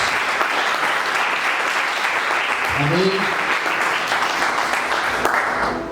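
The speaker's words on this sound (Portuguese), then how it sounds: "Quantos podem aplaudir Jesus?" Church congregation applauding Jesus during a sermon, a steady, dense wash of clapping that fills the whole stretch, with a brief spoken word and a short voice rising in the middle.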